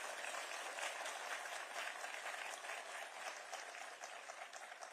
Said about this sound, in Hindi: जोर से ताली बजाइए अगर बजानी है तो।